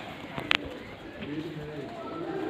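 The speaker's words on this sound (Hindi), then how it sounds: "ये है जी हमारा कबूतरों का डेरा।" Pigeons coo in a loft holding many breeds, low rolling calls close by beneath a voice, with a brief sharp clatter early on.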